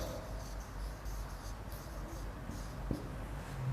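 Pen or marker scratching steadily across a writing surface during a classroom grammar lesson, a soft continuous scraping texture with one brief tap near the end, faint and close.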